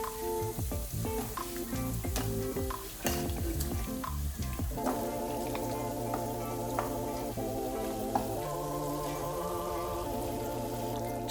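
Chicken pieces added to curry masala in a hot pan for a Bengali-style chicken curry, with bursts of clatter and stirring at first, then a steady loud sizzle with a sustained frying hiss.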